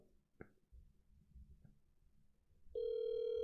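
A telephone rings on a call, a steady electronic tone with bright harmonics that cuts in near the end after a quiet stretch of faint background noise and light knocks.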